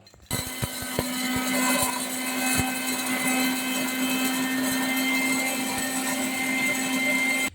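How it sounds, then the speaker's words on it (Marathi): Electric mixer grinder grinding dried chillies in its large jar, a loud steady motor whine with rattling bursts early on as pieces knock about, running continuously before cutting off at the end. "मोठ्या भांड्याचा इथे वापर करून मिरच्या दळून घेणार आहोत"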